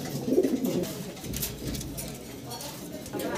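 A breeding pair of Magpie Danish fancy pigeons cooing softly in a loft, low murmuring coos near the start over a faint, noisy room background.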